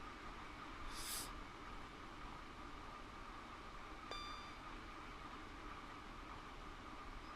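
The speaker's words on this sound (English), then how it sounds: "That ting noise is the AWS." A single bright ting rings out from the AWS in a train cab in Train Sim World, on the London Paddington to Reading route, over a steady rumble of cab noise.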